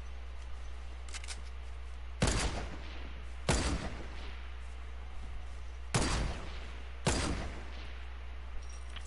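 Four loud gunshots ring out in a shooter game, spaced unevenly over several seconds against a steady low hum, with no talking.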